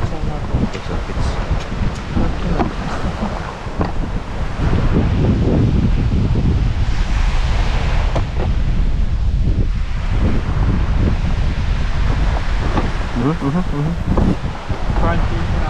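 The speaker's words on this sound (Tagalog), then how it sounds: "It's windy." Strong wind at sea off Busuanga buffets the microphone in continuous loud gusts, mixed with the wash of waves or water around a fishing spot, as voices speak intermittently beneath it.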